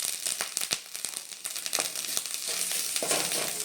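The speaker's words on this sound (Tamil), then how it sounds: "நெய்யில் இந்த மாதிரி நீங்கள் வறுக்கிறப்ப பார்த்திங்கன்னா நல்ல ஒரு மணம் கொடுக்கும்" Grated coconut frying in hot ghee for festive kozhukattai, a steady close sizzle with crackling pops and occasional stirring scrapes throughout.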